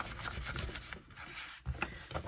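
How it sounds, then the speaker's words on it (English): A small wooden dowel rolls back and forth over a folded paper crease in a handmade journal, giving a close, dry rubbing scrape in steady strokes with a brief pause, no talking. "I'm going to use my little wooden dowel method to round that a little bit"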